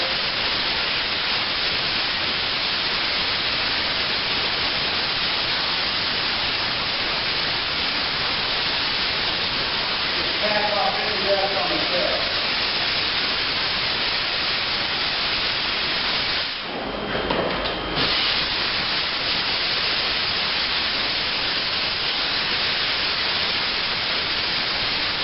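Compressed air blasts steadily onto a freshly painted drum shell, a loud, unbroken broadband hiss that runs for the whole stretch with only a brief dip partway through.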